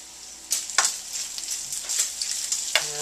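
Bacon frying in a pan gives a continuous bright hiss with scattered pops and spatters, close and moderately loud.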